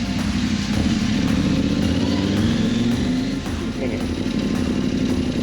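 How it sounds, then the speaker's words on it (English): Loud, steady engine drone and revving from motorcycles at an illegal street racing spot in the mountains of South Kalimantan, filling the whole stretch with a constant throaty roar that swells slightly in pitch. "And street racing, illegal street racing."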